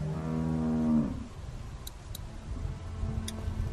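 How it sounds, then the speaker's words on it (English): A single long, deep cow moo with a harmonic tone from the video game The Walking Dead, Episode 2, followed by quiet ambience and a few faint ticking clicks. "How do you like that cow, Clint?"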